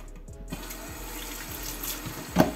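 Tap water running and splashing over capelin fish in a bowl as it is rinsed, a steady stream with small splashes and a louder splash near the end, no voices.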